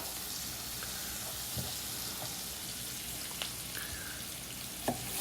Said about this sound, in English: Stir the onions.